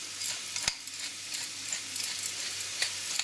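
Ground meat browns in a pan for stuffed bell peppers, giving a steady close sizzle with a few light clinks and stirring scrapes, no talking.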